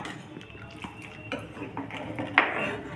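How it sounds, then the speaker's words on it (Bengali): Milk being stirred in a pot for malai kulfi, a spoon scraping and clinking against the metal sides in a steady, moderately close rhythm, with one sharper knock near the end. "এভাবে অনবরত নেড়ে যেতে হবে"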